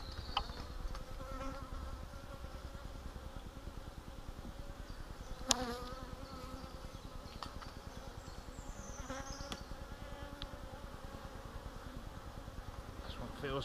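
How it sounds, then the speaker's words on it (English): An angry honeybee buzzes around a beekeeper's head, a continuous close drone that rises and falls in pitch as it circles, with a few faint clicks and knocks from the hive work. "I've got a very angry bee buzzing away at my head here."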